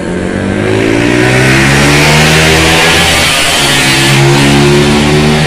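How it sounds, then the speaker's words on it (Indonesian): Loud motorcycle engines revving close by as seven bikes roll off a ferry at Bakauheni Port, Indonesia, a throaty, sustained roar with rising and falling pitch as they rumble past together. "kalau yang lagi tidur dengar suara motor"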